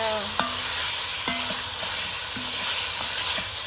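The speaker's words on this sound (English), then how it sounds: "Let this get to frying" Loud, constant sizzling of ground hamburger meat frying in a Dutch oven, with occasional scraping clicks of a utensil stirring the pot.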